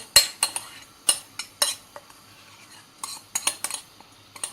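Metal utensils scrape and clink against a pot in a series of sharp, irregular knocks, with brief pauses between the clatters, as chicken pieces with sauce are transferred into the pot.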